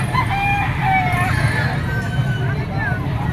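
Bull stag rooster of sweater bloodline crowing at a busy fowl market in Padre Garcia, Batangas, heard close and loud over constant crowd babble and voices.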